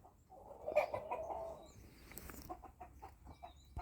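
Hens cluck softly inside a coop bedded with deep litter, a quiet, close murmur of short calls with no talk.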